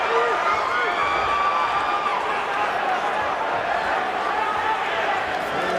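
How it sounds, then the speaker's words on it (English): A sold-out crowd roars steadily through a bare-knuckle fight at Philadelphia's Wells Fargo Center, a dense, continuous wall of cheering with a commentator talking over it. "this crowd in full voice, sold out at Philadelphia's Wells Fargo Center. The loudest crowd in BKFC history"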